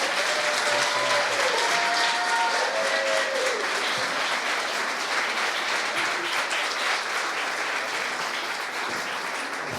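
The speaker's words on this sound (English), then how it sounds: "Give Allie another big round of applause." Wedding guests give a sustained round of applause, dense and loud clapping from a close crowd that stays steady and fades slightly toward the end, with a few faint whistles or cheers early on.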